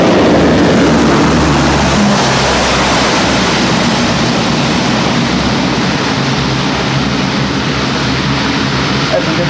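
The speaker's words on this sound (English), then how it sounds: "when that's used in conjunction with full reverse of the 4 engines, enables it to stop in some very short strips" A four-engine C-130 Hercules landing with full reverse thrust at an air show, a loud, continuous, roaring propeller wash that stays steady throughout.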